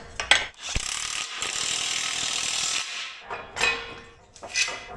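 A ratchet clicks in quick bursts while tightening down a tube bender used for building a Land Rover roll cage, with short pauses between the runs of clicks.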